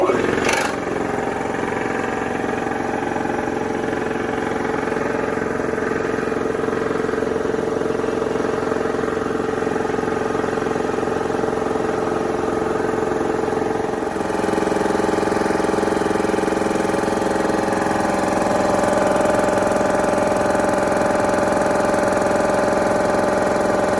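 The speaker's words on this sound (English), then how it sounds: "start my compressor." An Alkin W31 Mariner high-pressure breathing-air compressor runs with a steady mechanical drone and hum, loud and constant, the pitch shifting partway through as it works up toward its final pressure.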